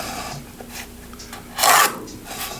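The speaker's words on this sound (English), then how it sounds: "cut into the wood until the back of the blade is about 1 inch in" A bandsaw fitted with a Laguna Resaw King blade rasps into a wooden board in one short, loud cutting burst, set between quieter rubbing and scraping.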